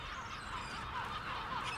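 Gulls call faintly at a large city landfill in Gloucester, UK, with thin, wavering cries rising over a low, constant background rumble.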